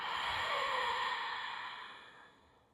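A person breathes out slowly and deeply during a guided breathing exercise, a soft airy exhale that fades gradually over about three seconds, close and alone.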